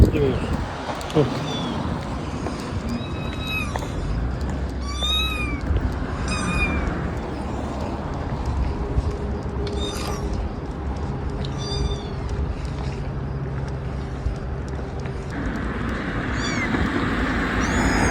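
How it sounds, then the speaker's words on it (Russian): A phone speaker outdoors near a house and parked cars loops recorded cat meows, clear repeated calls in short clusters with pauses between, over constant ambient street noise and some low rumbling. "Сейчас включим мяуканье и посмотрим."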